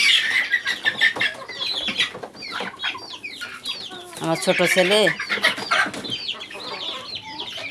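Several chickens cluck and call from inside a coop close by, an overlapping, busy chorus with a voice speaking briefly over them.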